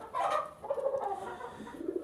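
Pet pigeons, black-tailed and black varieties kept in a cage, give soft throaty coos. A short, close burst of rolling calls is heard alone.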